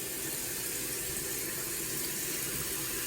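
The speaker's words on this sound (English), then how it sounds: "Also gonna wash my hands." Hands are washed under a running tap, a steady, even hiss of flowing water at close range with no break or speech.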